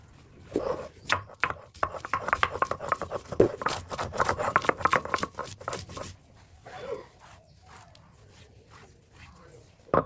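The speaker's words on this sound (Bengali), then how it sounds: "এখন বেটে নিব কিছু রসুন" Raw garlic is crushed on a traditional grinding stone for olive pickle, giving a rapid, rhythmic run of close scraping, thudding strokes for about six seconds before the grinding eases into quieter, scattered scrapes.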